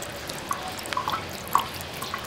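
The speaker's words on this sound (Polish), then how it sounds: "Niestety niedokładnie oszklono dach świetlika i w czasie deszczów woda leje się strugami." Rainwater dripping through a poorly glazed skylight roof, a few sparse, separate drops landing at irregular intervals, fairly close and quiet over a faint background hiss.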